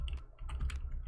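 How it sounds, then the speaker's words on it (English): Cards in the CTM card game get shuffled, giving a quick run of soft, close clicks and flicks that repeat in an irregular rhythm. "give all of these things a shuffle"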